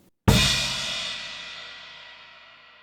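A crash cymbal struck together with a bass drum on beat one of a beginner drum beat: one loud, close hit with a long shimmering decay that fades out alone.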